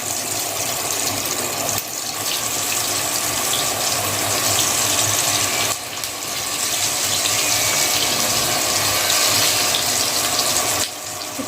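Shepu (dill) vadi dropped into hot oil for frying give a steady, continuous sizzling hiss at close range, with brief dips in level, and no voices.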